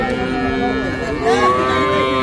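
Several calves and cattle moo over one another at a busy Hazratpur cattle market, with overlapping drawn-out calls that rise slightly near the end above a low background murmur.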